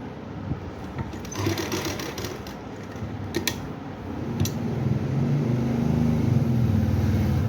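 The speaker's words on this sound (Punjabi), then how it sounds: "ਹੁਣ ਤੁਸੀਂ ਐਵੇਂ ਰੱਖ ਕੇ ਇੱਧਰ ਨੂੰ ਐ ਸਲਾਈ ਲਾਉਣੀ ਪਾਕਟ ਦੀ ਸ਼ੇਪ ਦੇਣ ਵਾਸਤੇ" A sewing machine stitches a pocket onto palazzo trousers, running in a steady close whirring chatter that picks up and grows louder toward the end, with a few light clicks early on.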